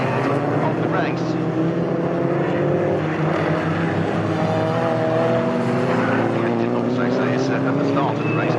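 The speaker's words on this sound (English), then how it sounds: "the Mini Clubman has gone through to pick up the lead of the race" A Mini Clubman and other touring cars race past at Snetterton circuit, their engines roaring loud and continuous with rising and falling whines as they accelerate, and a commentator's voice runs over the noise.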